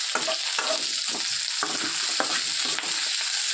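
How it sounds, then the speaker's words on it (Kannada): Ingredients for tomato chutney sizzle and fry steadily in a pan, with repeated scraping stirs cutting through the continuous crackle at close range. "ಇದೆಲ್ಲ ನೀಟಾಗಿ ಕೆಂಪಾಗೋವರೆಗೂ ಹುರ್ಕೋಬೇಕು"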